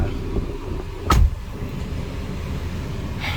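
An older Thai used car with a manual gearbox, leather seats and an injected LPG conversion pulls away, its engine holding a steady low rumble with a brief mechanical clunk near the start and no talking.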